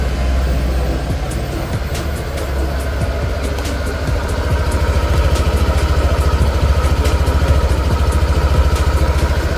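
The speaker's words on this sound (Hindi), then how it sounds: "तो यहाँ पर आपको साइलेंट स्टार्ट के साथ कुछ इस तरह की आवाज़ सुनाई देगी एग्जॉस्ट नोट से" Suzuki Burgman Street scooter engine running at idle after a silent start, a steady close low rumble with a faint rhythmic exhaust putter throughout and no talking.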